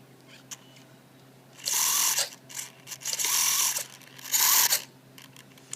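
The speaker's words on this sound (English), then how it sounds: "You hear a loud clicking noise." Loud, harsh ratcheting clicks come in three sustained bursts, each about half a second to a second long, as a broken micro servo is turned on and strains against its damaged gears. The sound is close and clear, with quiet gaps between bursts and no talking.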